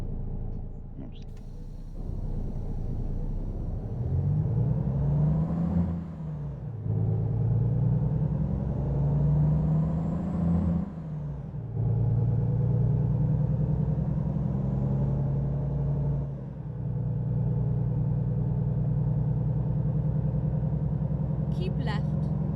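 A heavy truck engine in American Truck Simulator, a deep steady drone that rises and falls through gear changes, close and loud, with someone talking over it.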